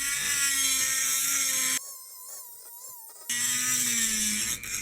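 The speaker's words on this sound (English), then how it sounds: "I'm going to use this hand grinder with a straight-sided wheel that's flat on the end." Hand grinder with a straight-sided, flat-ended wheel widening a bearing race in an early Wheel Horse transmission, giving a loud, steady high whine that drops away briefly mid-way and then resumes at full strength.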